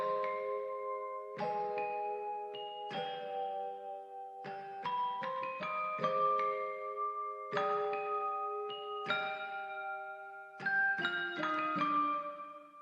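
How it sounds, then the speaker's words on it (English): Dark bell melody for a hip-hop sample plays alone, bright struck tones ringing out in a slow repeating pattern of clustered chimes with long decaying tails, steady and moderately loud throughout. "the bell pattern is sounding like this"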